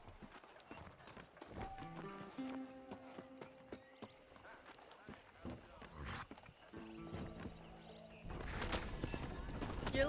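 Horse hooves clip-clopping in the Red Dead Redemption video game, a soft uneven trot under game music and occasional voices, growing louder and busier near the end.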